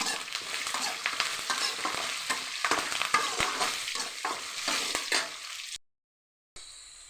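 Onion, curry leaves and garlic frying in a pan: a steady, close sizzle with frequent spatula scrapes for about six seconds, then a sudden cut to silence and a brief faint return of sound at the end.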